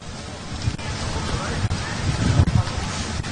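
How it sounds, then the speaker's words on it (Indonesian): A waterspout whirlwind over the sea off Karimun in the Riau Islands, heard as steady roaring wind and surf buffeting the microphone, loud and continuous with gusty swells and no voices. "Fenomena alam angin puting beliung terekam di Laut Karimun"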